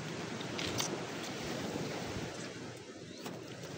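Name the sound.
strong sea waves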